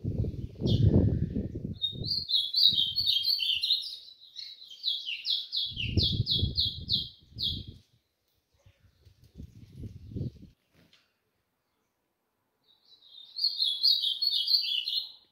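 Caged golinha and azulão songbirds, set outside on a cold windy day, deliver long, fast, high warbling songs in two clear bouts, close and loud, separated by low thumps and handling noise.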